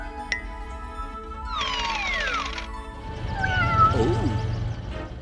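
A cartoon cat meows in a few drawn-out, bending cries, set among bright game-style sound effects and a short crash, loud and close with no speech over it.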